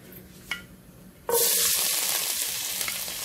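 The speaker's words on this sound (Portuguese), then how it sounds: "eu já coloquei óleo na panela. Vou colocar as coisas para refogar." Ingredients drop into hot oil in a pan and burst into a loud, steady sizzle of sautéing, preceded by a brief clink of utensils.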